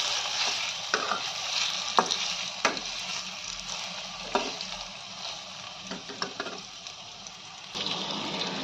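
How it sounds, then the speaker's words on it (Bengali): Paneer pieces frying in hot oil in a pan: a steady close sizzle broken by a handful of sharp scrapes and clinks as a spatula stirs them, with no voices. "পনিরগুলো হালকা ভাজা হয়ে গেছে।"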